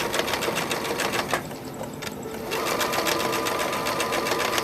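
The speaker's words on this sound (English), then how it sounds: "So here I'm stitching right next to my stay stitch, right on the outside of it, so it won't show." A sewing machine stitching a fabric panel beside a stay stitch, a close, loud, fast continuous whirring run that briefly slows and eases near the middle before picking back up.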